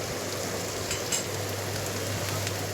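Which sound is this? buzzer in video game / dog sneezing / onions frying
onions frying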